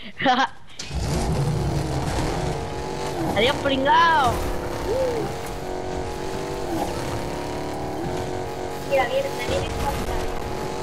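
Car engine in Fortnite Battle Royale revving and pulling away with a steady motor drone, while people talk and laugh over it.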